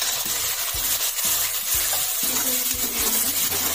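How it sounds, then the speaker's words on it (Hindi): Onion paste going into a frying pan while cooking besan masala sabzi, with steady close sizzling and frying under repeated stirring scrapes and clatter, no talk. "अब इसमें हम अनियन का पेस्ट डाल देंगे।"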